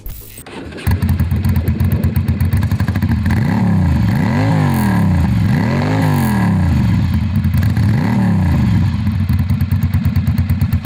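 A Ducati Monster motorcycle with a custom exhaust fires up, then revs loudly in repeated rising and falling surges over a steady, clattering idle, close and alone without talk.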